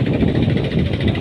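A trawler boat's engine drones steadily with a mid-pitched, rumbling chug on a windy haor wetland at Madan, Netrokona, heard fairly close and without voices.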